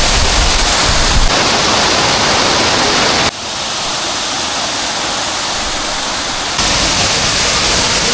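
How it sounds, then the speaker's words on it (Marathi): A waterfall at Ramoji Film City roars in a loud, steady wash of rushing water that fills the whole scene, with only slight shifts in level. "हा रामोजी फिल्म सिटी यातला धबधबा पाहू शकता"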